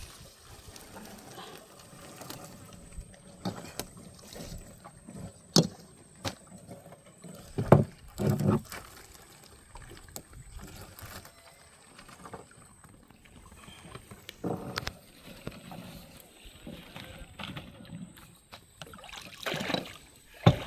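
Paddles splash and water laps quietly against a small boat on a river in scattered, irregular strokes, heard from nearby without voices.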